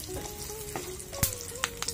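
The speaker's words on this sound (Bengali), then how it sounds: "হালকা গরম তেলে আগে বাদাম দিয়ে দিচ্ছি।" Nuts and raisins fry in lightly heated oil with a soft, close sizzle, punctuated by a few sharp spatters and stirring clicks, with no talking.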